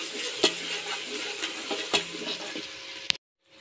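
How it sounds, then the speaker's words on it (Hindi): Ginger garlic paste and green chillies sizzle in a pan for a siri paye dish, with a steady frying hiss and a few sharp stirring scrapes and clinks before the sound cuts off. "अदरक लहसुन का पेस्ट जा रहा है इसमें, और हरी मिर्च भी साथ में डाल देंगे।"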